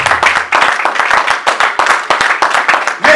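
A church congregation claps together in a steady, brisk rhythm, the sharp hand claps loud and close for a few seconds with no one talking.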